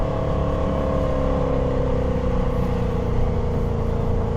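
A 2025 Jaguar F-Pace SVR V8 gives a deep, steady exhaust drone with a slowly falling tone, loud and continuous with no talking.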